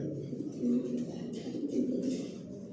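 Steady low cooing of pigeons in a loft, several birds overlapping in a continuous murmur, fairly close, with faint rustling higher up.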